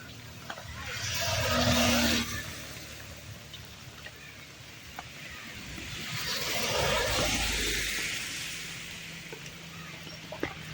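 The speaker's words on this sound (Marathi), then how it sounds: "बघा हा रोड आहे आणि इथून गाड्या जात आहेत" Vehicles passing on the Mumbai-Goa highway, two broad swells of tyre and engine rush rising and fading as each goes by, moderately distant over a steady background hiss.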